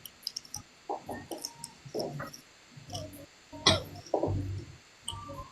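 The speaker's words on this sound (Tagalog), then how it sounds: "Lahat kami, inuubo kami rito eh." Several short, rough coughs come in irregular bursts with brief quiet gaps between them, close and moderately loud.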